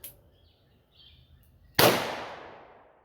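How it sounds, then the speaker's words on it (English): A single sharp gunshot from a .327 Federal Magnum revolver firing 90 grain Sierra hollow points, a loud crack with a ringing decay outdoors, preceded by near silence. "90 grain 327 Federal Magnum through the chronograph"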